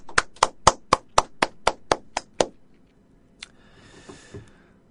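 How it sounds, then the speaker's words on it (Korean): A pair of hands claps about ten times in a quick, steady rhythm, each clap sharp and close, followed by a short pause and faint background noise. "손뼉 한번 치겠습니다."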